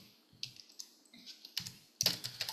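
Keys clatter on a computer keyboard connected to a mobile phone or tablet, with soft taps that grow into a louder, quicker burst of close typing toward the end.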